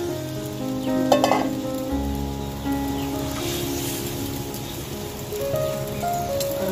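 Fried fish dropped into a hot curry sizzles and crackles steadily, with a brief clatter and a few stirring scrapes near the start and a continuous bubbling hiss throughout.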